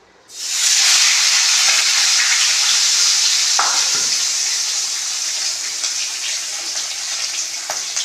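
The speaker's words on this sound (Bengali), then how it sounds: "এই তেলটার মধ্যে একটা মাছ আপাতত ভাজতে বসিয়ে দিই।" A fish dropped into hot oil sets off a sudden loud sizzle that holds strong and close, easing slightly over time, with a few small clinks.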